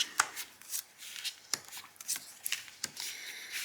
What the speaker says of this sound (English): So let's just lay a few more cards.